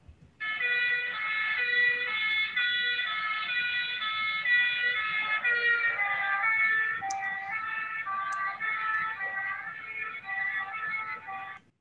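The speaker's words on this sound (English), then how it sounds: "ambulance coming towards this camera and then going past the camera moving away." An ambulance siren wails continuously, loud and close, its tone dropping noticeably in pitch partway through as it passes the listener and moves away, a Doppler shift.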